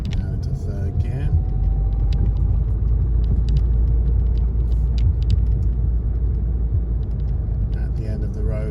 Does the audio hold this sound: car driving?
yes